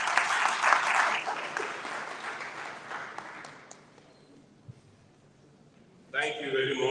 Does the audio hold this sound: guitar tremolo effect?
no